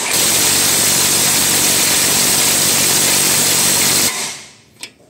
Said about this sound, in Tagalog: Tingnan natin guys kung kaya ng impact drill.